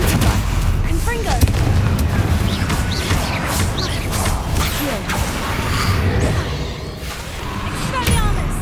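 Confringo fire spells cast repeatedly in Hogwarts Legacy, a continuous run of sharp blasts and impacts amid busy combat noise, with a voice talking over the action.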